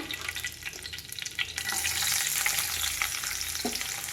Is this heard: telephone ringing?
no